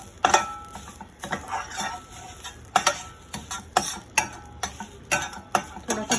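Fresh and dry grated coconut roasting in a pan is stirred with a utensil, producing repeated close scraping strokes and sharp clicks against the pan in an uneven rhythm over a low background sizzle, with no talking.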